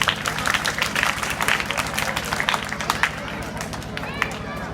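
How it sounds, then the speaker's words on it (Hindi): Students at an inter college in Chakrapanpur, Azamgarh clap energetically as a group, producing a fast, uneven patter of hand claps mixed with crowd murmur and voices. "जोरदार ताली बजाइए अपने लिए पहले।"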